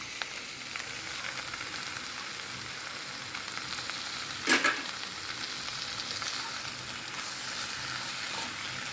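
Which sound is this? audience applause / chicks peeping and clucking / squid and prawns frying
squid and prawns frying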